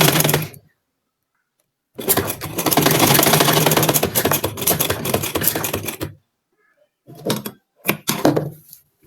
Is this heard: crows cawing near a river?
no